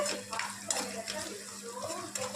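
Ginger and turmeric being stirred in a frying pan, a soft scraping of a spoon with light sizzling, faint and close, with small clinks scattered through.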